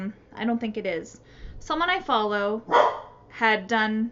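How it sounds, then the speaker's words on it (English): A dog barks several times in quick bursts, loud and close, overlapping someone talking. "sorry about the barking"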